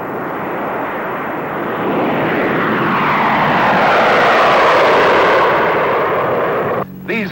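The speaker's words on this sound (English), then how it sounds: "a B-36 and a B-47 will be in the air to find out the effect of blast and heat on" A large aircraft roars steadily overhead in flight, a broad, loud engine drone that swells to a peak midway and then begins to fade, in a 1952 military film of a B-36 and B-47 bomber flight.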